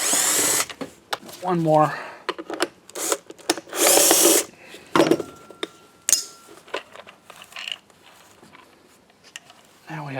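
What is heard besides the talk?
power drill removing screws from Black and Decker vacuum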